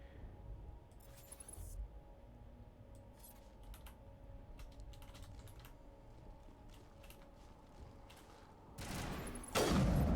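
Rapid bursts of gunfire from a firefight in Mass Effect 1 Legendary Edition, crackling shots scattered across the scene at moderate distance over a low hum, ending in louder blasts.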